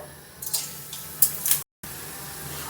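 Crushed bori, lentil dumplings, dropped into hot oil in a village kitchen, giving soft bursts of sizzle and spatter in short surges, fairly close, with a brief dropout midway and a steady low hiss after.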